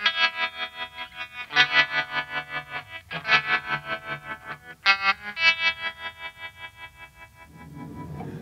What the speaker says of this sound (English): The first sound I'm going to show to you is the optical tremolo, like the one you can find in a Fender twin amplifier.